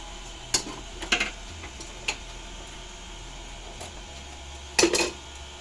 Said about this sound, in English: I'm mixing the dry ingredients.